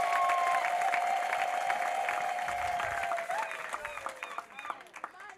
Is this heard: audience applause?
yes